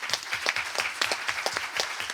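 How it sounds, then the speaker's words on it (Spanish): An audience claps for a professor at a book presentation on Argentine democracy, with steady, moderately close applause from a modest crowd. "mis primeras palabras de agradecimiento son para el profesor Julio Pinto, que acá nos acompaña, para quien pido un fuerte aplauso."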